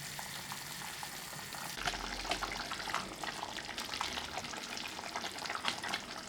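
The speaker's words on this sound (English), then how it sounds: "We will let it simmer for about 10 minutes or until the kohlrabi and the sweet potatoes are" Kohlrabi and sweet potato soup simmers in a pot with a soft, continuous bubbling and gentle hiss, quiet and close, without any talk.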